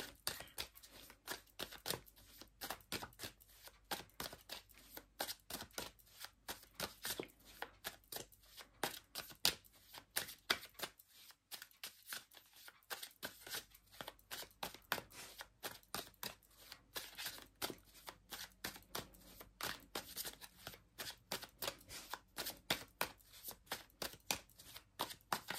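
Russian oracle deck of about a hundred cards being shuffled, a dense run of quick papery riffles and flicks that continues steadily near the microphone, with one brief pause partway through.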